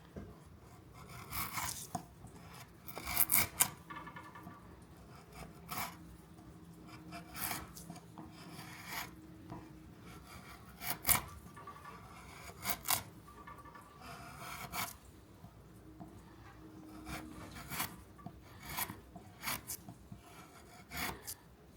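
An Arrow wood-handled chisel, sharp straight out of the box, shaves and pares wood in a string of short rasping strokes, up close and alone, with occasional louder scrapes.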